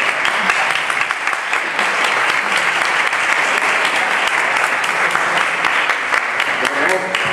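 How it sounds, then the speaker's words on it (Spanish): A debate audience discussing the Torre Pelli tower gives sustained, loud, close applause that stays dense and even throughout, with some voices mixed in. "Ahora sí, el aplauso, Brian."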